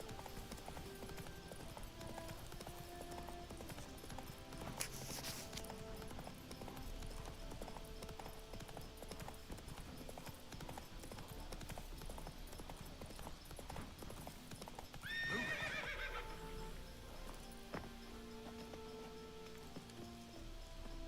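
Roach the horse trots along in Witcher 3, hoof clip-clops steady and close throughout with a soft rain-like patter, a brief whoosh near five seconds and a swell of louder movement around fifteen seconds.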